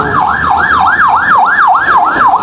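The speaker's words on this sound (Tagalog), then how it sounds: "may ambulansya nadadaan mga idol" An ambulance siren rushes along Maharlika Highway near Lopez and Gumaca, Quezon, wailing in loud, steady rising-and-falling sweeps that repeat about eight times over a constant road roar.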